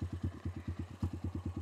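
Single-cylinder diesel engine of a mountain utility vehicle thumps in an even, rapid rhythm, close and fairly quiet, each pulse distinct.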